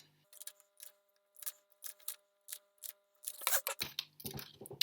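Scissors cutting around a drawn paper circle, a series of crisp close snips coming in irregular rhythm, with denser rustling cuts toward the end.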